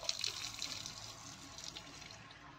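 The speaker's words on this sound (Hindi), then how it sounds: "अब इसको धोते हैं हम 3-4 पानी से, ठंडे पानी से" Cold tap water runs softly over cabbage leaves being washed in a kitchen, a faint steady splashing with small drips and clinks, heard close and alone.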